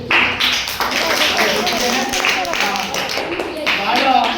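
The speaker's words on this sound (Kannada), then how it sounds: "ನಿಮ್ಮ ಅಮೂಲ್ಯವಾದ ಸಮಯಕ್ಕೆ ನಾವೆಲ್ಲರೂ ಜೋರಾದ ಚಪ್ಪಾಳೆ ಮಾಡ್ತೀವಿ" An audience claps loudly in thanks after children's songs at an event, a dense burst of many hands applauding steadily through the whole moment, mixed with some voices.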